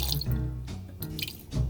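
Water glugs from a bottle into a small handwashing sink in a camper van, uneven gurgling bursts of pouring close by, no voices.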